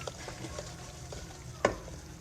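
Onion-tomato gravy masala frying in oil for white chickpeas, a faint steady sizzle with soft periodic scraping of a spoon and one sharper clink partway through.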